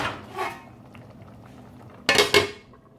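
A lid is set back onto a pot of Senegalese tiep rice cooking on the stove: after a quiet simmering stretch, two quick, bright metallic clanks ring out close by.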